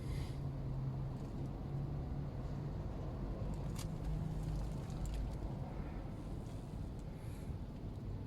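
Hyundai Kona with a 1.6 engine on the road, a steady low rumble of engine and road noise with wind hiss throughout, no pauses.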